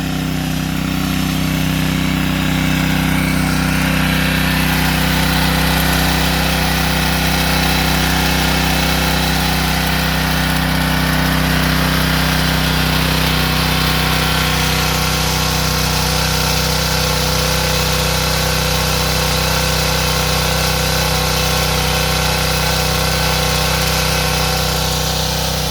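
A Champion 2-inch gas water pump engine runs at a steady pace, loud and close, as one continuous drone that holds unchanged the whole time with no talking.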